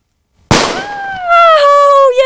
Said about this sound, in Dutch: Belgische vuurwerk.